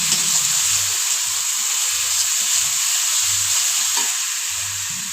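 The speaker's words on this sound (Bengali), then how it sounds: "2 মিনিট আমার পেঁয়াজটা এরকম ভাজা হয়ে গেছে। এর মধ্যে এবার আমি আদা রসুন একসঙ্গে বেটে রেখেছিলাম, এই বাটাটা আমি এর মধ্যে দিয়ে দিলাম।" Onion with ginger-garlic paste frying in a pan, a loud, steady close-up sizzle and hiss throughout, with faint low knocks of stirring underneath.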